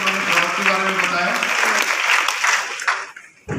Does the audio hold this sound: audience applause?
yes